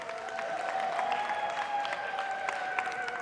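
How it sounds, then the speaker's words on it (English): A round of applause for child delegates at a children's forum panel, moderately steady clapping throughout with a faint tonal hum underneath. "I think they need a heartier, warm round of applause than that."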